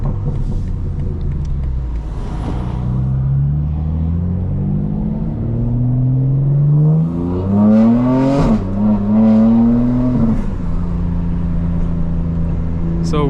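A tuned 900 hp 2025 BMW M4 Competition xDrive accelerates hard through several gears. Its engine note climbs and drops in a loud, close rumble, with a brief crackling burst from the exhaust midway.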